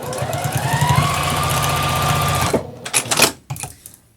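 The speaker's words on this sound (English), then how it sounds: "I'm going to put my presser foot toe right on the edge of the fabric." A sewing machine stitches along the fabric edge of a tote bag in a loud, steady, rapid run for about two and a half seconds, then stops, followed by brief close handling rustles.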